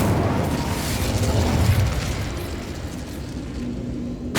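A fire spell cast in Hogwarts Legacy erupts as a loud, sustained whooshing roar that stays dense and steady throughout, ending with a short burst.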